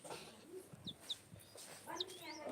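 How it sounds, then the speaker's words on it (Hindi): Chickens, a rooster and small chicks on a farm give short, scattered clucks and faint peeping calls, fairly close and quiet, with no talking over them. "ये रहा मुर्गा, ये रहे हमारे मुर्गे, और ये मुर्गे का बच्चा"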